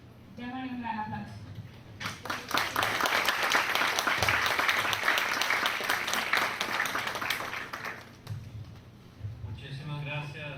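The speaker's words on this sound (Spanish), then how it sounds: "Démosle un gran aplauso." An audience at a fiscal policy panel discussion gives a round of applause lasting about six seconds, dense and even, framed by a speaker's voice before and after.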